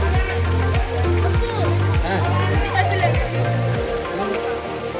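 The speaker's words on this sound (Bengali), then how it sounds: "আমরা এখন সুবলং ঝর্ণায়" Shuvolong waterfall in Rangamati, Rangamati's tallest, pours with a steady broad rush of falling water, while people talk over it nearby.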